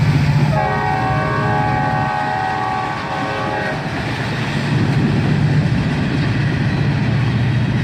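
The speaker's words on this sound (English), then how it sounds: "the train was honking its horn so much because they were up by the rails" A freight train led by a GP30 diesel locomotive near a bridge sounds a long, loud horn blast with stacked harmonic tones, close by over the steady rumble of rolling cars, which continues after the horn stops.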